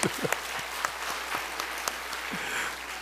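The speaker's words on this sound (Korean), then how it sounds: "우리 박수 한번 좀" Steady applause from a church congregation, a dense patter of clapping with a few sharper claps standing out, continuing evenly for a few seconds.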